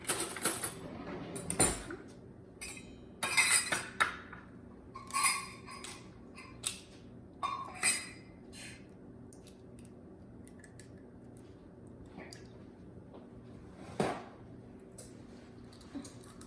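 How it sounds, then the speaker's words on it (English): Two eggs are cracked into a small bowl and whisked with a fork for cornbread. Scattered soft taps and clinks of fork against bowl are heard, quiet and irregular, with no talk. "crack these 2 eggs into this little bowl and whisk them up with a fork"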